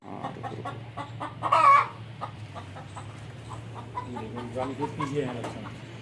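Chickens sick with Ranikhet disease cluck and squawk close by, one sharp louder call standing out, over a steady low hum with some faint background chatter.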